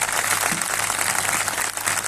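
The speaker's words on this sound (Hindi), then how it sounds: "सबसे पहले पिता, पुत्र और पवित्र आत्मा के लिए जोरदार ताली बजाएंगे वेलकम के लिए" A church congregation at a Christian gathering claps together in steady, dense applause, a moderately loud wash of many hands that carries on without a break for a couple of seconds.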